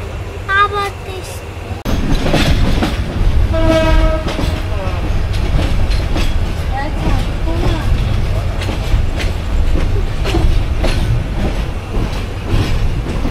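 Jayantika Express passenger train from Sylhet region (Srimangal to Dhaka) running in Bangladesh, with a steady loud rumble and clickety-clack throughout, a brief horn-like tone early on, and voices talking over it.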